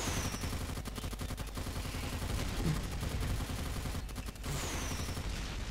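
Continuous, rattling gunfire from the shooter game Team Fortress 2, with rapid shots packed together and a few faint whistling effects over a steady layer of game noise.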